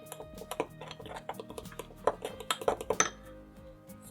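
Warm milk being mixed into cake batter in a bowl, heard as close, repeated clinks and taps of a utensil against the bowl in an uneven rhythm, with no talking.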